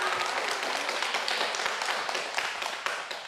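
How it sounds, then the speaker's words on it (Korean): A TV studio audience at a broadcast interview claps in a full, steady round of applause that fades slightly toward the end. "박수 한번 보내주세요."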